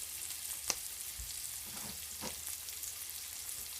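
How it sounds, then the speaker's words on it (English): A ribeye steak sizzles and spits in a pan, a soft, steady frying hiss broken by a few sharp pops and crackles, heard faintly and alone. "Y'all see it's spitting a little bit, which is okay."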